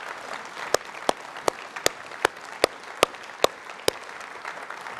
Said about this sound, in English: Stand up and have a round of applause.